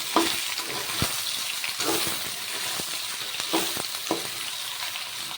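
Chopped ridge gourd sizzles in a frying pan as a continuous close hiss, broken by occasional scraping and clacking stir strokes, with no voices.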